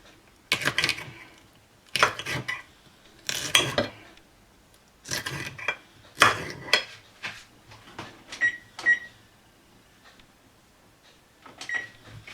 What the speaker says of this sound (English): Once again, cut off the green stem.